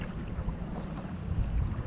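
Wind buffeting the microphone while saltwater fishing from a boat, a steady low rumble with soft gusts that swell slightly toward the end, with no talk.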